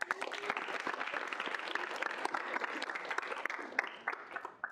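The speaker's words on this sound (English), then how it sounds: "big round of applause again" A student senate audience gives a steady round of applause, dense clapping from many hands holding at an even level throughout before tapering slightly at the close.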